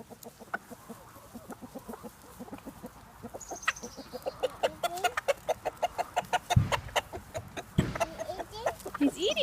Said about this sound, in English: Here comes the rooster.